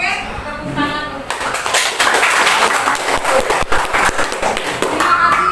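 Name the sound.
children clapping in a classroom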